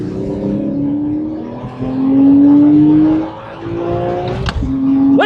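A Porsche Boxster Spyder engine drones loudly from inside the cabin, its pitch climbing through gears as it accelerates, with a brief whine near the end.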